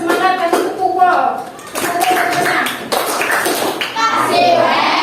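Children in a classroom do a rhythmic group clapping cheer, bursts of claps and taps mixed with children's voices and calls, loud and close.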